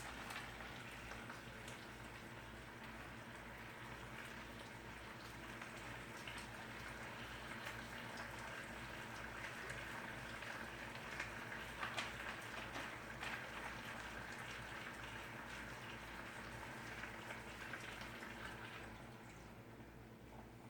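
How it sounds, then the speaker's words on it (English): Half a cup of Sprite poured into a simmering chicken curry, giving a steady fizzing, bubbling hiss that runs evenly throughout, with a low hum beneath and no talk. "So I'm gonna add a half cup of Sprite."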